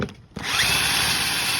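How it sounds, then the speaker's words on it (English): Power drill spinning a hole saw through wood for a portable shooting bench, starting after a brief pause with a steady loud whine and grinding that holds to the end. "for your hole saw"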